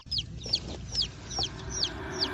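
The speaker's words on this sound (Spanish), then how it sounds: "Deje los pollos quietos, Enrique, no los molesten." Hens cluck in a short series of sharp, evenly spaced calls, fairly close, over a low background hum in a rural farmyard scene with chicks nearby.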